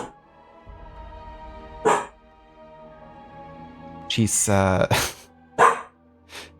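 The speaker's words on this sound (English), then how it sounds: "My dog is also saying hello." A pet dog barks a few sharp times close by in a room, the loudest burst near the end, while someone speaks over a quiet background during a game livestream.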